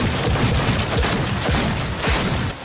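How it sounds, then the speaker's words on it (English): Rapid sustained gunfire in Cyberpunk 2077, a loud continuous fusillade of sharp shots firing in quick irregular bursts through the whole moment. "I am taking fire!"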